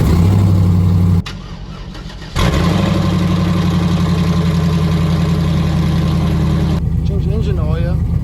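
A GM car's engine, just fitted with a new alternator, cranks and catches, then settles into a loud, steady idle close by, with a short pause in the cranking before it fires.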